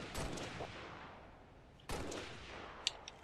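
In Halo Reach multiplayer, two gunshot blasts ring out, each with a long fading echo, followed by a few faint sharp clicks.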